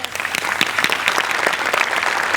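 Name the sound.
audience applause on a Marathi comedy show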